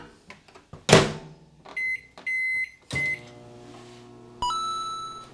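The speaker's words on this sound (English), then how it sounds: "when you microwave it, make sure you put a little bit of water in there to keep it moist" A microwave oven sounds alone: a loud clunk of the door, a run of short keypad beeps, then a steady electronic tone as the oven starts running with a low hum.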